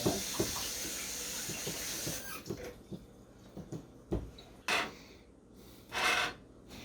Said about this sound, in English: Let me wash a bit of sriracha off my